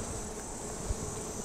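Honey bees at an open hive during a brood inspection, producing a steady, high-pitched buzzing hum with one soft low thump.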